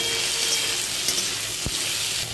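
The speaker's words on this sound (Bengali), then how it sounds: "ভালো করে ভেজে দেবো এইভাবে, যাতে মিক্স হয়ে যায় সবকটা মশলা একসাথে" Spices and green chillies fry in a pan for a pointed gourd curry, making a close, continuous sizzle with a soft stirring scrape near the end.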